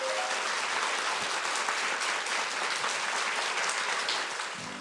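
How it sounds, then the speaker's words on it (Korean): Sustained applause from a lecture audience for a professor at a citizens' academy event, a dense, steady wash of clapping that fades slightly at the end. "다시 한번 큰 박수 부탁드리겠습니다"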